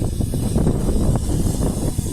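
Steady wind buffeting the microphone outdoors on a windy day, a constant low rumble with a faint broad hiss, no voices.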